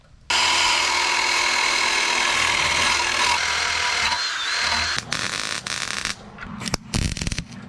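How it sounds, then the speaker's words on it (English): A power-tool wire wheel scrubs excavator metal clean before welding. It gives a loud, continuous abrasive whirring grind that runs steadily and then breaks into shorter, uneven bursts near the end, with no speech. "we're gonna just clean it off with a wire wheel"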